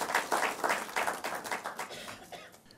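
An audience at a university law quiz competition between the University of Ghana and KAAF University College claps for the contestants, a brief scattered round of applause that fades over a few seconds.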